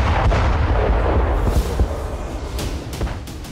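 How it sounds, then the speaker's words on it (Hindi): Russian army artillery fire at Kupiansk during the Russia-Ukraine war: a continuous rumbling barrage of heavy booms with several sharper cracking blasts toward the end, loud and with no talking. "रूस की सेना ने कुप्यांस्क में आर्टिलरी से भी जबरदस्त प्रहार किया।"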